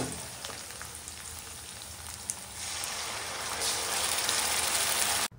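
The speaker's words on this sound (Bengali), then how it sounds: "আর ওতে দিয়ে দিলাম এবার পেঁয়াজ কুচি। ভালো করে এবার ভেজে নিব লাল লাল করে।" Chopped onion with crushed garlic sizzles steadily in hot oil, a dense continuous crackle that grows brighter and louder halfway through, with no talking.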